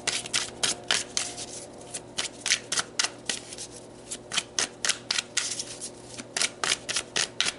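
Tarot cards are shuffled by hand close up, a rapid series of crisp riffling bursts repeating in quick irregular rhythm with brief pauses between, with no voices.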